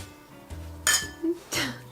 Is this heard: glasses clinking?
yes